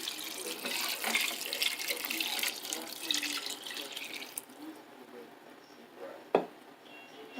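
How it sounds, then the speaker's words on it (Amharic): Water pours steadily into a cooking pot of rice with onion and vegetables for several seconds, then stops, leaving quiet room sound and a single sharp clink near the end. "ውሃ እጨምራለሁ።"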